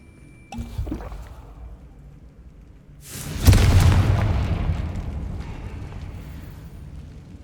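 Spell-blast explosion in Hogwarts Legacy: a small click and thud, then a sudden loud burst that booms and decays into a long, rumbling tail of debris, heard alone.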